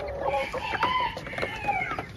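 Chickens cluck nearby while a rooster crows, several overlapping calls rising and falling over a couple of seconds.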